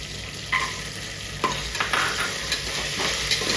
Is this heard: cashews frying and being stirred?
yes